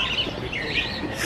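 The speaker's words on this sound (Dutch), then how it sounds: "Echt zoveel verschillende vogels hier." Many different birds chirping from a tree in the open air, with overlapping high tweets and calls that are moderately loud and continuous, with no voices present.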